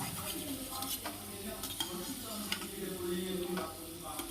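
Potato french fries frying in hot oil over a high flame give a steady, soft sizzle with faint stirring and pan clinks throughout.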